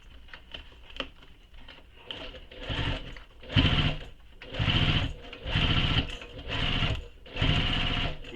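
A sewing machine stitches the flap of a belt bag in repeated bursts of fast, buzzing needle strokes, each about a second long with short pauses between, close and clear.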